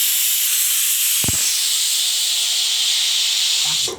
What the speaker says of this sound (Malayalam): ഇനി ഒരു 2 വിസിൽ കേൾക്കുന്നത് വരെ ഹൈ ഫ്ലെയിമിൽ തന്നെ വെച്ച് വേവിക്കാം